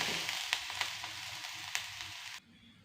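Onions sautéing in a pan for rava adai give a steady close sizzle with a few sharp stirring clicks, then cut off abruptly near the end.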